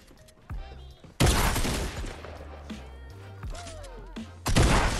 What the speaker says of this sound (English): The combat shotgun is my best friend apparently right now.